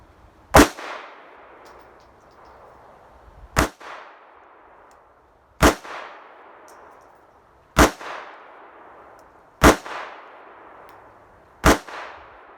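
A Smith and Wesson Bodyguard 380 pistol fires Blazer aluminum ammunition at a range, giving six loud, sharp single shots spaced about two seconds apart, each ending in a short ringing decay.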